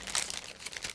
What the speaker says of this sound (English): So what I'm doing right now is opening the second plastic bag